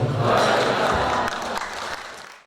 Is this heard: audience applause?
yes